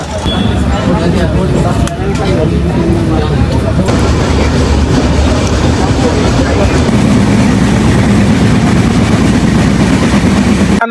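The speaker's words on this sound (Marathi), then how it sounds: "आता जनशताब्दी आलेली आमची स्टेशनला." A Jan Shatabdi express train arriving at a station rumbles steadily with a low engine drone and rolling noise, loud and continuous, while voices talk over it.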